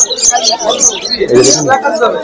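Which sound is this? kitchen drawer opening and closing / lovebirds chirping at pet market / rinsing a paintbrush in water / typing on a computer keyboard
lovebirds chirping at pet market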